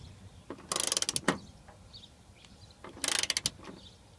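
Parts on a Honda Odyssey sliding door being tightened with a ratchet, two quick clicking bursts with a pause between them, close and fairly quiet, no talking.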